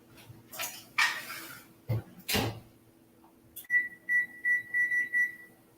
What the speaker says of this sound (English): I set the timer for 20 minutes, so I'll check it then